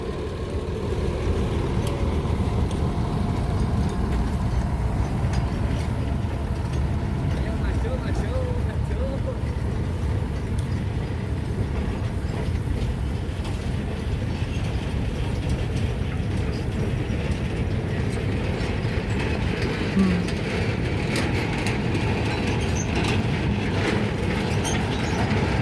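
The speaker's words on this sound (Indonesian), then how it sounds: "lokomotif nomor 4 membawa 5 gerbong gula, 2 gerbong penumpang besar" Locomotive number 4 hauling five sugar wagons and two large passenger cars along rails, a steady rumbling roll with rhythmic metallic clanks and rattles throughout, with people talking over it.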